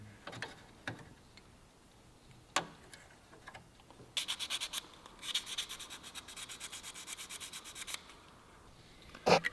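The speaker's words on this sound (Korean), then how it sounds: "이것도 하나하나 사포질하고 그죠?" Rusty parts from the engine bay of a 1977 old car are sanded by hand with sandpaper, heard as quick rapid rasping strokes in a burst, between scattered clicks and knocks of handling in a quiet room.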